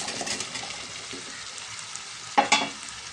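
A spoon stirs boiled cauliflower into an onion tomato curry in a pan, producing soft scraping and a low sizzle, with two sharp clanks of utensil against the pan near the end.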